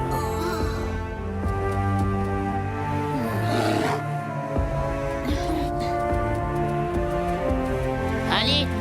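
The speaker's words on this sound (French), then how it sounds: "L'esprit du grand ours." Great bear spirit in a French cartoon roaring, a deep, drawn-out growling roar heard over a musical score with sustained tones, fairly loud and continuous.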